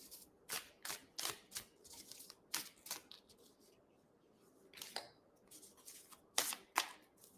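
Oracle cards are shuffled by hand before a reading, giving close, quiet bursts of riffling and flicking card noise in an irregular rhythm, with short pauses between the runs of shuffling.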